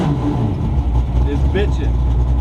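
A 1967 Mustang with a lumpy cam revs hard, a loud, dense, close engine roar with throttle surges, with a faint voice briefly mixed in.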